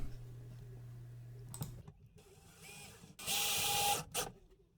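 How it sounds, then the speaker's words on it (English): An impact driver sinks screws into a floor while building a bench that converts into a bed. Two loud whirring, rattling bursts come close together, the second louder and longer, followed by a short final spurt. "I can take my impact driver and use some screws and attach them to the floor"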